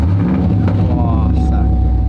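A Chevrolet Camaro engine hums steadily up close, a low continuous drone with a voice briefly heard over it.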